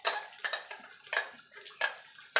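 Chicken pieces being stir-fried in a pan for a Gondhoraj lemon-chilli chicken, heard as five sharp, evenly spaced metallic scrapes of a spoon against the pan, fairly quiet with no talking.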